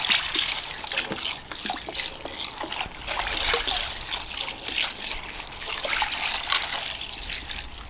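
Buttermilk pours in a steady trickling stream into a container of chicken brine for poultry headed to shrink bags, a close, continuous liquid splashing that varies slightly in strength over about eight seconds without talk.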